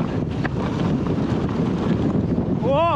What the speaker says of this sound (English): Whoa, the wind is crazy.